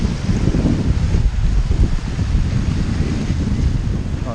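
Surf rolling onto an ocean beach at high tide, a steady loud wash of breaking water dominated by gusty wind rumble against the microphone, with no talk.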